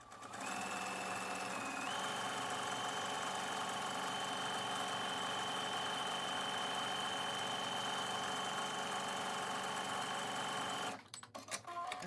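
A sewing machine stitches steadily over shirt seams, a continuous close-up motor whir with a sustained whine that holds for about eleven seconds before stopping in a few short stutters.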